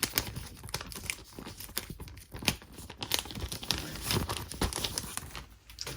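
Close crinkling and tearing as tape is peeled off a Hot Toys figure's instruction manual, a run of sharp crackles and rips with no talking.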